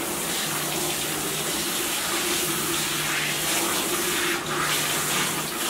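A garden hose runs in a steady, loud gush, rinsing shampoo suds off a dog being bathed, with no voices heard.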